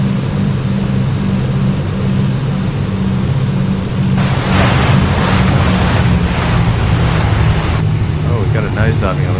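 A Grumman HU-16 Albatross seaplane touches down on water in the X-Plane 10 flight simulator, a loud steady engine drone with splashing, rushing water and wind noise building through the middle, while someone talks.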